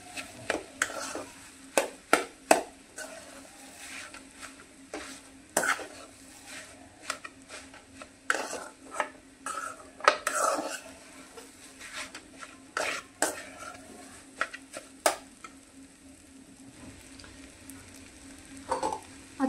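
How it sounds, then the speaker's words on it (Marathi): Spatula repeatedly chopping and scraping egg bhurji into small pieces in a pan, sharp irregular metallic taps and clatters over a soft background sizzle, close and moderately loud with no talking. "आता अजून आपण हिला छोटे छोटे बारीक तुकडे करणार आहोत त्याचे"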